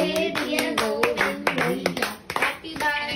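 Hands clap together at a birthday celebration in India, mixed with children's voices and sung birthday melody, lively and close throughout.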